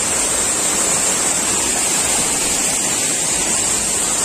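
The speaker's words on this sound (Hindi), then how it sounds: "बहुत ही अच्छा वाटरफॉल है।" Aamgaon waterfall at Mainpat, Chhattisgarh roars in a steady, loud, unbroken wash of falling water, with no voices over it.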